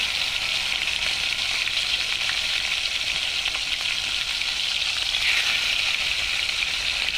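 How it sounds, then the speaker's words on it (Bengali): Fish sizzles and crackles in hot oil in a pan, a steady bright frying hiss with no talking. "কড়াইতে আমি মাছ ভাজি"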